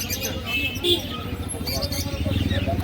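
Among the Madras pigeons at the Birnagar pigeon market, soft cooing and brief chirps rise over a busy background of voices, with a low rhythmic burbling toward the end.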